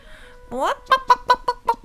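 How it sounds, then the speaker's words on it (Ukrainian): A hen lets out a rising squawk followed by a quick run of five or six sharp, shrill clucks, close and loud. "від будинку долинуло пронизливе куткудакання"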